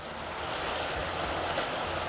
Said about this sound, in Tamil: இப்போ இதில் நம்ம கொஞ்சமாக தண்ணி ஊற்றிக்கலாம்